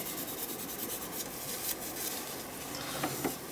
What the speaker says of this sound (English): Just wipe off the paint from that spatula.